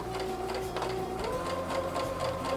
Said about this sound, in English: just lightly guide your fabric through as the sewing machine does all the hard work and pulls your fabric through